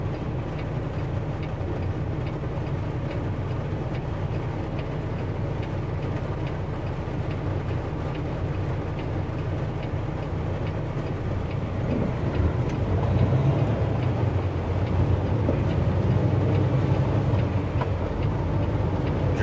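An empty truck drives in the rain, its engine a steady low rumble with constant road and tire noise. The rumble grows slightly heavier partway through, and no one speaks.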